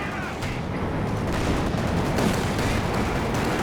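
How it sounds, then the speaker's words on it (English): Strafing-run gunfire in Company of Heroes 2, a dense continuous rattle of distant rapid shots and muffled impacts at a steady moderate level. "That's a good strafe."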